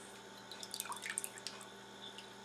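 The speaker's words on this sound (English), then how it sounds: "let it drip off a little bit" Water drips and trickles off cooled roasted eggplant in a kitchen, a few close, scattered drops and light splashes over a quiet background.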